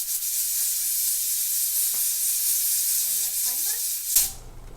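A continuous loud hiss of steam escaping from a pressure canner fills the clip, with a few faint clinks and a voice murmuring underneath before it cuts off abruptly.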